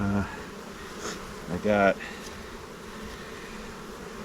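Honeybees buzz steadily in an apiary hive, a close, continuous hum that runs under brief speech near the start.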